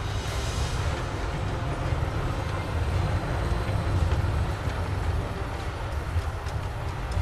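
Steady mechanical rumble and rattle of a roller coaster train climbing a lift hill in the theme park game Planet Coaster, continuous and even for several seconds with faint ticking layered over it and no talk.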